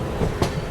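An LHB coach train rolls into Secunderabad railway station with a continuous rumble and a brief louder clack of wheels over a rail joint near the middle, heard close up.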